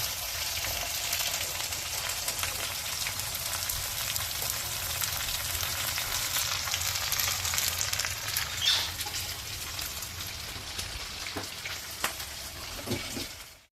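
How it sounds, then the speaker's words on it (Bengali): Sliced green chillies with chopped garlic frying in a pan for motor shak with prawns, a soft continuous sizzle with occasional stirring knocks and scrapes toward the end, fairly quiet and with no talk. "এগুলো এখন আমি একটু নেড়ে চেড়ে ভেজে নেব, একটু কালার আসা পর্যন্ত অপেক্ষা করব।"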